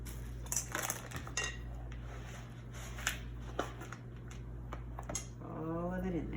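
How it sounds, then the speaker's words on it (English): Dry bird seed snack mixture stirred in a bowl, giving a run of scraping, clinking strokes at close range, with a voice talking briefly near the end. "So let's stir it up"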